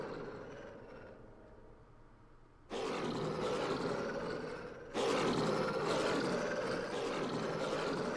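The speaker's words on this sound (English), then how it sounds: "Okay, you guys are doing a lot of roaring and growling." Werewolves in the Dragon Age video game roar and growl loudly, a dense continuous snarling that starts quieter then surges twice into fuller, louder roaring bursts.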